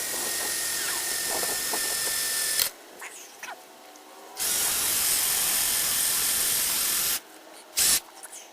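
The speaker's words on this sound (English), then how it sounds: "the drill, even though I center punched it, the drill was walking on the pipe" A power drill bores into a metal lamp post pipe in bursts, with loud hissing, grinding runs separated by short pauses and a final brief burst, close to the listener.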